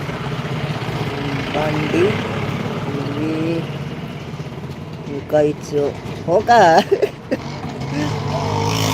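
A motor vehicle being driven, its engine a low steady drone running throughout, with someone talking over it close by.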